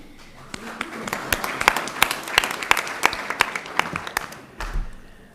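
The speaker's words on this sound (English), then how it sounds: "Let's give them one more round of applause as everyone is exiting the room." Audience members at a school board meeting give a final round of applause as they leave the room, with scattered, moderately loud claps rising and then thinning toward the end.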